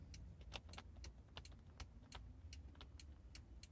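Throttle linkage in a VW T3 engine bay, adjusted by hand, gives a run of small, sharp clicks and spring snaps in an irregular rhythm, faint and close, against quiet background hiss.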